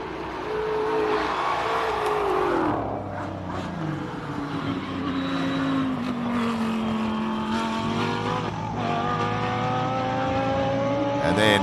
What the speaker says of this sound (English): First time we've seen the pink Lamborghini. Ricky Giancarlo going out there. This sounds spectacular.